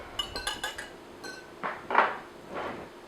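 Whisking egg and sugar together in a mixing bowl for a fraisier cake, heard as quick, light clinks of a utensil against the bowl, close and fairly soft, in a short burst and then a few scattered knocks, with no one talking.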